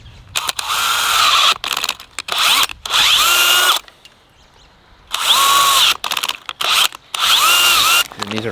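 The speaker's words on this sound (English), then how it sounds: "I'm gonna hit it with my drill gun." A loud power drill boring holes in a fallen log runs in repeated bursts, spinning up and cutting in, with short pauses and one longer gap between runs.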